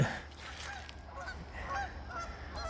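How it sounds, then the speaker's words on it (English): Several Canada geese honk faintly in the distance at night by the St. Croix River, overlapping calls drifting in over a low steady rumble. "these things are just honking and flying in"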